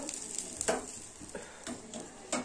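Braised spiced meat sizzling in a pan as hot water is poured in, with a steady hiss broken by several bursts of stirring and scraping against the pan.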